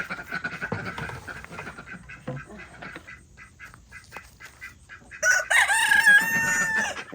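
Farmyard chickens cluck and fuss steadily up close, with ducks kept nearby, then a rooster lets out a loud, drawn-out crow over the flock near the end.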